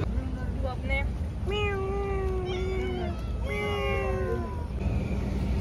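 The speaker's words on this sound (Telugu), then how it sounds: "భలే ఉంది పిల్లి, క్యూట్గా అసలు చాలా బాగుంది." A cat meows repeatedly and loudly up close, its drawn-out, wavering cries coming in several bursts over a steady hum, recorded near the Alleppey backwaters in Kerala.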